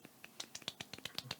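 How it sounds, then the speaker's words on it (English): Light, sparse golf clap for a guest on a football talk show, a dozen or so crisp, evenly spaced claps in quick succession, close and soft, with no voices over them. "We'll give a little golf clap"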